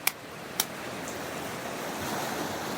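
Waves wash steadily onto a sandy shore, a broad, soft surf roar with gentle wind, preceded by two sharp close clicks at the start.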